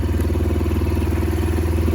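A Linhai M150 quad bike engine runs steadily close by, a loud, even low-pitched putter with light mechanical clatter and no talk.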